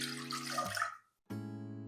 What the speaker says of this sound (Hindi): चनों का मसाला बनाने के लिए दूसरे पैन में डालेंगे 1 कप पानी।